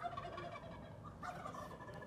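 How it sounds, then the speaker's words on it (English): Turkeys gobble repeatedly in a steady, moderately loud chorus of rippling calls, with several birds overlapping throughout and no one talking. "And those turkeys."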